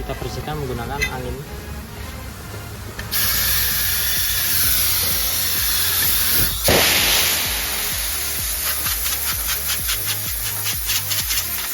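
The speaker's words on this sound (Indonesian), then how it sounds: "Kita bersihkan menggunakan angin." A Mitsubishi Xpander rear brake drum is cleaned with compressed air. After a few seconds of light rubbing and handling, a loud, steady hiss of air starts and continues close up, with short bursts and shuffling toward the end.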